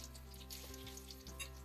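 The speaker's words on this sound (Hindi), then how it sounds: "इसी तरह से बाकी पकोड़ों को भी मैं फ्राई करती जाऊंगी।" Potato pakoras frying in hot oil, a soft continuous sizzle and bubble with faint crackles, heard quietly and alone.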